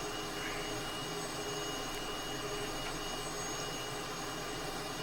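A Cessna T-37B Tweet jet climbing away after takeoff in Microsoft Flight Simulator, a constant, even, dense jet roar with a thin high whine, steady and unbroken, with no voices.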